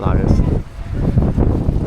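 Wind gusting against the microphone outdoors at a seaside amusement park, a loud low buffeting rumble that dips briefly midway, with a person talking over it.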